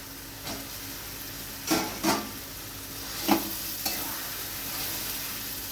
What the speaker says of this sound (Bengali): নেড়ে নিয়ে এবার আমি দিয়ে দেব চিকেন কিমা